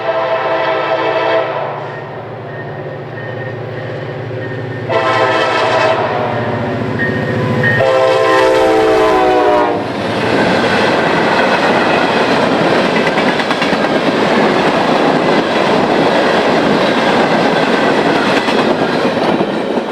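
A Norfolk Southern freight train at Pine Junction sounds several loud, sustained horn blasts, then passes close by with a roaring, rumbling rush of cars that continues to the end.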